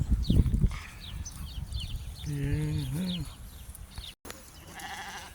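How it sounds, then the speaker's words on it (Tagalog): Sheep and goats on a farm in Saudi Arabia bleat in a wavering, drawn-out call, with a burst of nearby noise at the start and fainter animal cries scattered through the livestock pen. "Tupa tsaka ano, kambing."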